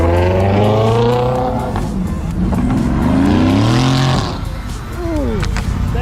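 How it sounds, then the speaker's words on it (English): At a car show, a Ferrari sports car's engine rumbles and revs in rising, sweeping pulls. The sound is close and strong, then drops away as the car moves, with a brief tire-like squeal near the end. "that Ferrari sounds sick."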